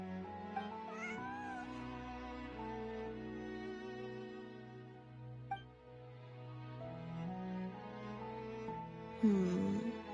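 A cat meows a couple of times in the game Genshin Impact over a soft, sustained musical backdrop; the meows are brief, one early and one near the end.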